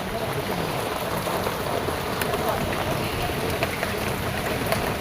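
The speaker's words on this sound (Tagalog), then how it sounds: "Labot na tayo ng ulan dito." Steady rain falls outdoors, a dense, even hiss of drops pattering on surfaces close by, continuous and fairly loud throughout with no other clear sounds.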